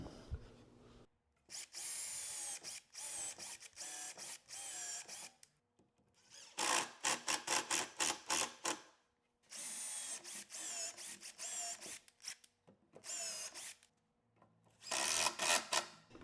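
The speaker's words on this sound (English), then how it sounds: "so probably easiest to screw it together" Power drill driving screws into a clamped reclaimed white oak Shaker-style bench, four separate bursts of high whirring with a ratcheting edge, each a few seconds long, separated by quiet pauses.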